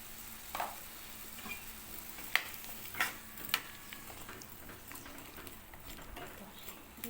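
Taro curry with salt being stirred in a pan, a quiet bed of gentle sizzling broken by a few sharp, close clicks and scrapes of the spoon against the pan.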